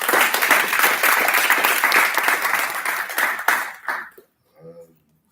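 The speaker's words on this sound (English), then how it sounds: "Dr. Mackenzie, give him a round of applause." Graduation audience at an international postgraduate medical college applauding, dense sustained clapping from a large crowd that fades out after about four seconds, followed by a brief faint voice.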